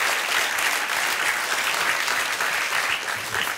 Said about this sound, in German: Sehr warmen Applaus.